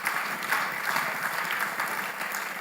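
An audience at a Nigerian Institute of Electrical and Electronics Engineers gathering applauds in a continuous, even wash of many clapping hands, with no talk over it.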